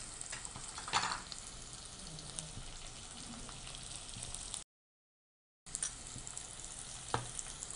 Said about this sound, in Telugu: కొంచెం ఆయిల్ జీలకర్ర పచ్చిమిర్చి ఆనియన్స్ ఆనియన్స్ వేసేసి ఫ్రై చేసుకోవాలి